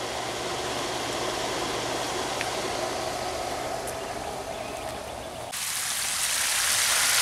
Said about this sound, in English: So I'm gonna backwash it now.